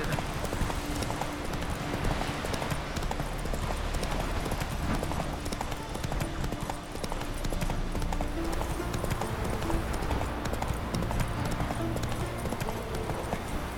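Horse hooves gallop in The Witcher 3 video game, a loud, steady clip-clop rhythm lasting throughout over a constant game ambience.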